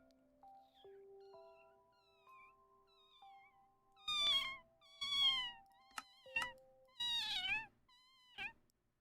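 A person imitates a cat with a series of short, rising and falling meows, some breathy and some strained, separated by brief pauses after a quiet opening passage.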